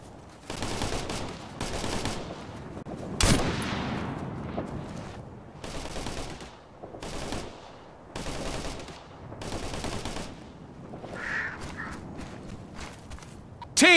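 Gunfire in the video game Operation Flashpoint: Red River, repeated bursts of automatic weapon fire with one sharp loud shot, mid-distance and steady over several seconds, and footsteps between the bursts.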